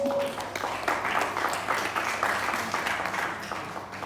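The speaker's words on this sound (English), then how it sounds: "A round of applause for that." Audience at a film festival opening ceremony breaking into applause, a moderate steady spread of clapping from many people across the whole stretch.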